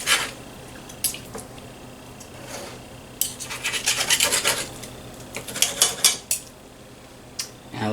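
A knife scraping and sawing through a cooked steak on a plate, with repeated rasping strokes and cutlery clinks clustered in the middle and end, close and fairly loud against a quiet room.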